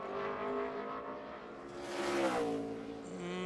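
NASCAR race car, the 9 car, on a qualifying lap at Loudon: a loud engine drone rising and falling in pitch through the corners, continuous and close, with a brief higher surge midway.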